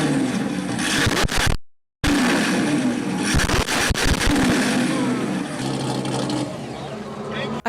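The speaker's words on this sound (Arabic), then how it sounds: "صوت الإكزوست." A loud car exhaust blares continuously and up close, harsh and distorted, with a brief dropout near the start before the roar resumes.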